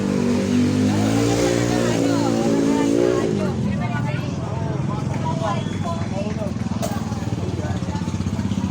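A motor tricycle on a street in Baliuag, Bulacan, passes close by with a rising, buzzing engine drone that fades after a few seconds, while people keep chatting nearby over the lingering street noise.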